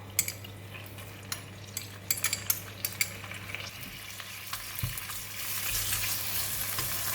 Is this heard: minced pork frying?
yes